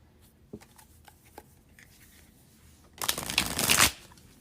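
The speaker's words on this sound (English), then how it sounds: "And I apologize for the shuffling in your ear." A tarot deck being shuffled, first a few soft taps and card handling noises, then a close, loud burst of riffling cards lasting about a second before stopping; no talking.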